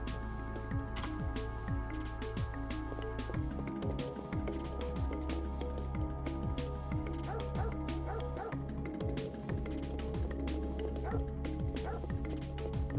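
Dogs in the game Parasite Eve yipping and barking repeatedly, with short whimpering cries over a sustained game music track, fairly close and continuous throughout.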